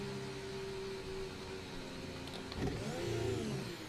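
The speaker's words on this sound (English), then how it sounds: "Car's back started." An F1 car's engine restarts in a racing video game: a steady, fairly quiet engine hum swells into a brief rising rev.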